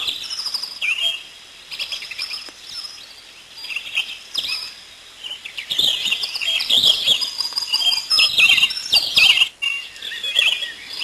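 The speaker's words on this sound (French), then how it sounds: "Les oiseaux qui voltigent" Birds chirp and tweet in a natural outdoor setting, with bright overlapping calls that are sparse at first and grow busier and louder toward the end.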